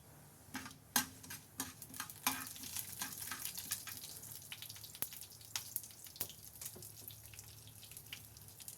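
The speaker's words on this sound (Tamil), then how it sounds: "பெருங்காயம், கருவேப்பிலை, கொத்தமல்லி தாளித்து கொட்டிக்கலாம்." Asafoetida, curry leaves and coriander tempering in hot oil in a pan, a steady close sizzle with crackling pops and occasional spoon or pan clicks throughout, no voices.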